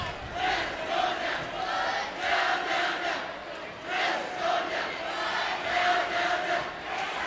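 A high school cheering section at a Lakewood boys' basketball game chants in loud, rhythmic waves, the crowd's voices rising and falling in repeated phrases.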